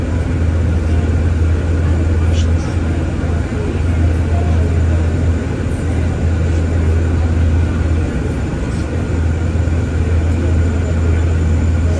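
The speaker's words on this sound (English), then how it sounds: "It's an A380, the biggest aircraft in the world, and you see it now." Loud, steady drone of a large aircraft, an Airbus A380, fills the whole stretch with a constant low rumble and broadband roar, heard at close range without a break.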